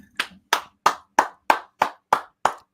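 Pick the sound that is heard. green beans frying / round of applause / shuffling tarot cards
round of applause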